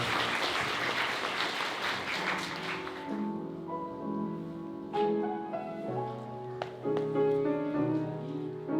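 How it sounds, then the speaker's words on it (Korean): Wedding guests clap warmly for the newlywed couple, a dense burst of applause that fades after about three seconds, giving way to soft, sustained background music with occasional light taps. "따뜻한 박수로 두 사람을 축하해 주시면 감사하겠습니다"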